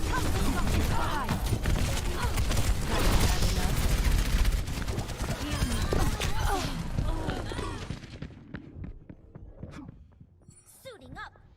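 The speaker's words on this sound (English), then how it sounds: "Here comes the rocket fire" Rocket fire in a sci-fi shooter game rumbles with rapid bursts and blasts under a dense, loud battle mix with voices, then fades toward near silence with a few faint final pops.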